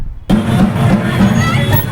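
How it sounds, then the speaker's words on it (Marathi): A crowd of party workers cheering in celebration at Rajkamal Chowk in Amravati, breaking out suddenly into a loud, dense roar of voices and hubbub that keeps going steadily. "राजकमल चौकात जल्लोष करण्यात आला"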